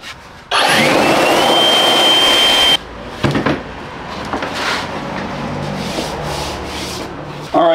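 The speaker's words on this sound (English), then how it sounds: "And now I just run a contour in there, sand that out nicely." A burst of sanding on body filler in the grooves of a GM A-body car panel, loud and steady rubbing for about two seconds, then quieter scraping and handling noises.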